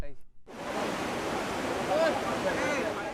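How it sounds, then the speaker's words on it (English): A dangerously high river rushes loudly and continuously, a dense broadband roar that starts abruptly after a brief quiet moment and holds steady throughout. "The river was dangerously high,"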